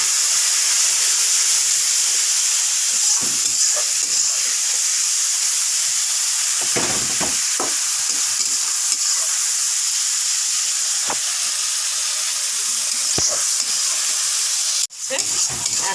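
Egg and soybean curry in a pan after a little water is added, a continuous bright hiss and sizzle with scattered clicks from stirring and a sharp knock near the end.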